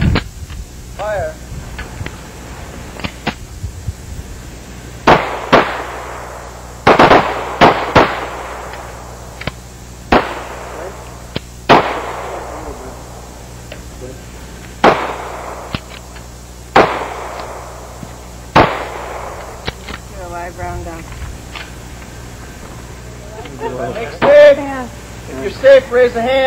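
Handgun shots on a training range, a series of sharp loud reports spaced irregularly, about a dozen over the span, with a few muffled dry clicks where dummy cartridges are loaded, and people talking briefly near the end.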